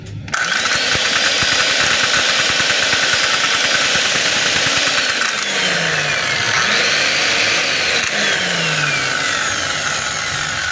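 A DeWalt D25899 10 kg jackhammer, fitted with replacement carbon brushes, runs continuously with a loud, harsh, buzzing hammering roar that starts abruptly and holds steady throughout.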